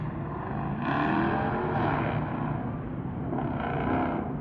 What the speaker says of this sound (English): There goes a whole group of cars through the light.